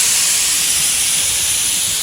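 A paint sprayer coating an old sailboat hull, heard as a loud, steady, unbroken hiss close by and alone.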